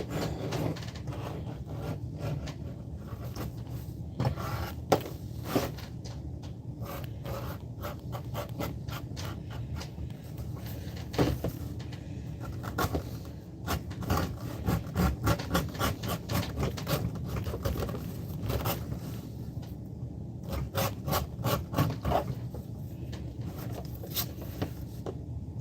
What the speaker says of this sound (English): Bevel this edge a little bit right here,